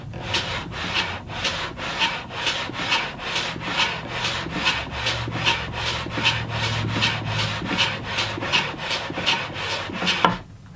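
Rhythmic rasping strokes of a hand plane taking fine shavings from wood, about two per second, steady and close, ending with a final heavier stroke.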